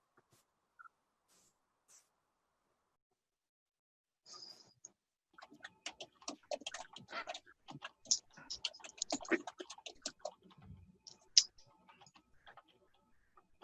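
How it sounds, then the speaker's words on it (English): Faint, light typing on a keyboard, scattered soft clicks and taps that start after a few quiet seconds and continue irregularly, distant and low in level. "A lot of typing going on."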